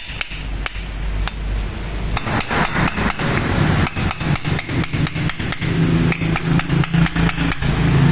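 Hammer tapping the primary drive gear bearing of a Yamaha Mio Soul scooter into place: a string of sharp, close metallic knocks in an uneven rhythm, gathering pace over a steady low background hum.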